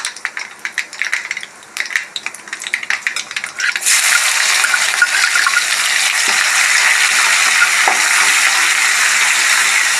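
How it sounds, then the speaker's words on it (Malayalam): Mustard seeds splutter in hot oil, first as rapid close pops and crackles, then giving way to a loud continuous sizzle as something is added to the pan. "ഇവിടെ കടുക് ഏതാണ്ട് പൊട്ടി കഴിയാറായി"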